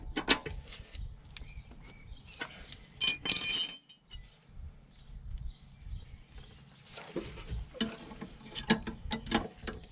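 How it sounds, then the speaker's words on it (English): A regular ring spanner tightens the nuts on a rear sway bar end link of a BMW E60 M5, giving a close, steady run of metallic ratcheting clicks with a couple of louder scraping bursts. "then we'll just give them 2 nuts a nip with the regular ring spanner."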